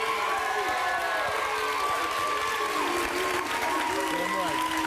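A television studio audience at a Steve Wilkos talk show claps and cheers steadily throughout, fairly quiet and continuous, with shouting voices mixed into the crowd noise.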